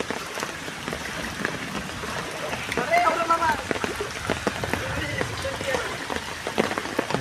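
Heavy rain pours steadily over a waterlogged village road, a dense, even hiss of drops hitting water and surfaces, close and continuous, with a brief voice call partway through.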